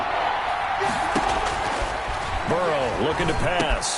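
Stadium crowd noise in the Madden football game swells steadily under a play-by-play commentator calling a Bengals 3rd-down pass, a broad continuous roar with the announcer's voice riding on top.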